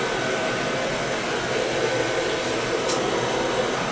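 A Viessmann oil-fired boiler burner runs after its annual service, giving a steady, even roar of broadband rushing noise that holds constant throughout, close and moderately loud, with no talk.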